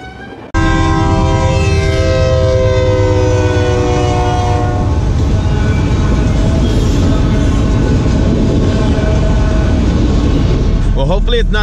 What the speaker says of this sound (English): Y'all wanna see the train? Let's see the train!